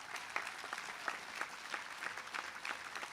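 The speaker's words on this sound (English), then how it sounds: "she has done right by this community and deserves a real big round of applause" Audience at a Red Hook high school commencement claps steadily for a retiring honoree, a moderate, even patter of hands with no voices over it.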